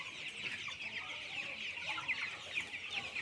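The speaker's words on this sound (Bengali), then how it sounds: "মুরগিগুনা কত ধরধরা, চঞ্চল" Many chickens clucking and chattering continuously in a farm shed, a busy flock close by with overlapping calls and no talking.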